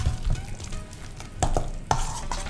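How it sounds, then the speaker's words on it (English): A spoon stirs chopped tomatoes into a bowl of guacamole, giving soft, wet squelching and scraping strokes in irregular bursts, close up and quiet. "stir in those tomatoes"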